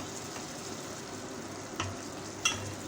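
Chicken frying in a pan, a steady soft sizzle with occasional stirring clicks and a couple of sharp scrapes, close and fairly quiet, with no talking.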